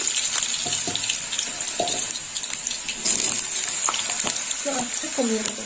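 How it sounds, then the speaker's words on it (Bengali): Potatoes frying in hot oil in a home kitchen for aloo posto, a steady sizzle running throughout with light clinks and stirring noises over it, close and moderately loud. "তেল গরম হয়ে গেছে, এবার আমি আলুগুলো দিয়ে দেবো। প্রথমে আমি আলুটা ভেজে নেব।"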